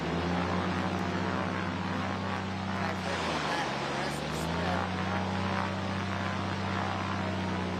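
A stock Carbon Cub light aircraft racing in a lane at the 2023 National Championship Air Races gives a steady, droning engine hum that dips in pitch midway, under continuous commentator talk.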